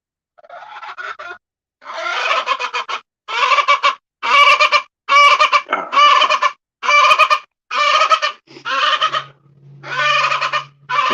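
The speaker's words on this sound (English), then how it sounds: "Noisy chickens." Chickens cluck and squawk loudly in rapid, repeated bursts, close by and insistent, with short pauses between each noisy volley.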